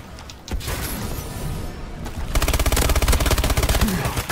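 Gunfire in Call of Duty Advanced Warfare, a noisy firefight that turns into a fast rapid burst of repeated shots in the last two seconds.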